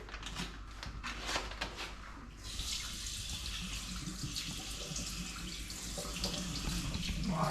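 Tap water runs steadily into a sink while vacuum-packed salted pork from Alsace is rinsed under it. The stream sounds close and continuous, with splashing that grows slightly fuller toward the end.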